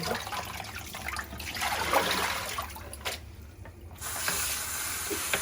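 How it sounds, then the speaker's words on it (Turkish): Freshly picked garden greens are washed under running water outdoors in a village, a steady splashing trickle with a brief quieter gap midway before the flow resumes. "Yeşillikleri yıkıyorum şimdi burada."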